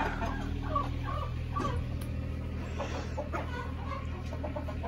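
Laying hens clucking in a backyard coop enclosure, a steady low murmur of overlapping clucks and soft calls throughout, fairly close, over constant low background hum.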